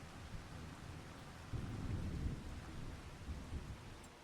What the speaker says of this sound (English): But there is definitely rain.